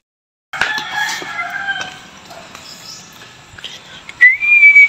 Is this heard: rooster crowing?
yes